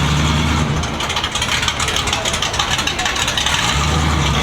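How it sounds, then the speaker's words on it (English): A square body truck engine runs loudly at an outdoor classic car show in Texas, a steady dense roar that fills the scene while people talk nearby. "There's a square body over here making some noise."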